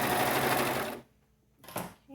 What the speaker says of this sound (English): If you're using a regular sewing machine, make sure that you are back stitching